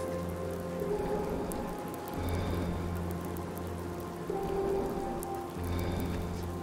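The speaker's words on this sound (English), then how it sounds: "Mostly rain, though." Steady rain falls across the wasteland in Fallout 4, a soft continuous patter with faint low droning ambience beneath, no voices.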